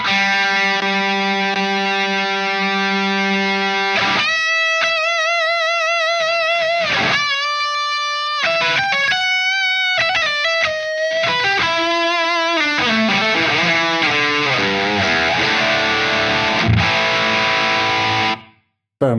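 Electric guitar runs through a Wampler Pantheon Deluxe dual overdrive pedal, held distorted chords and bursts of riffs ringing out with sustained, gritty harmonics before ending abruptly.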